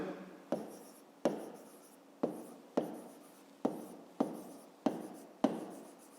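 A pen writes on paper in eight evenly spaced strokes, each a sharp scratch that fades quickly, soft and close with no talking, as numbers are written out for a fifth-grade math exercise.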